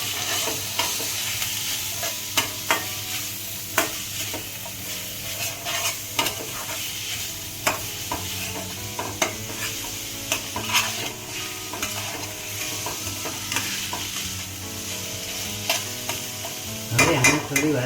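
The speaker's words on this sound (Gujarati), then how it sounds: "અને હવે આપણે નાખીશું એમાં લીલા વટાણા" Half-boiled green peas stirred in a hot pan, a continuous sizzle under repeated scraping strokes and sharp clicks of a spoon against the pan, ending in a louder flurry of stirring.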